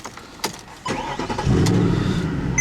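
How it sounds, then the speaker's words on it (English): A 2009 Mercedes-Benz C63 AMG V8 engine cranks and fires, catching with a sharp burst, then settles into a loud, steady, deep idle nearby. "the whole reason why you would buy a C63 is basically that V8 engine"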